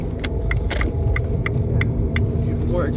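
Abarth 595C Turismo MTA, a short-wheelbase hatchback, driving with a steady low engine and road rumble and a light, regular ticking rattle over it throughout.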